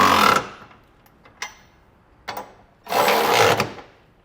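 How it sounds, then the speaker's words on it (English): A tool on a 17mm socket snugs down the bolts of a Curt trailer hitch receiver. Loud close bursts at the start and end frame a few short sharp knocks and clicks in the quieter middle. "we can come back with a 17mm socket and snug it all down"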